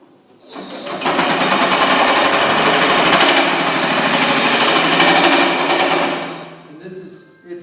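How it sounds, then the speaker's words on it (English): A metal shrinking machine fitted with dies hammers at a steel tulip petal, a loud, rapid mechanical chattering that starts up, runs steadily for about five seconds, then winds down and stops. "a little bit of the shrinking action that goes on with these dies that I have in the machine right now"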